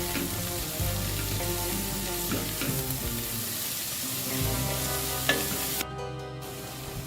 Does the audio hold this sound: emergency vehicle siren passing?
no